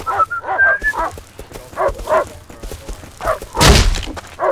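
A dog in the survival video game Rust barks and yips in short repeated bursts, with one loud, close, thumping bark near the end, mixed with overlapping talk.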